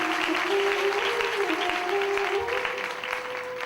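Audience applause fills a religious gathering at a Guru Purnima dharma assembly in Kaman, Bharatpur, Rajasthan: dense, steady clapping from a large crowd throughout, with a faint sustained tone running beneath it.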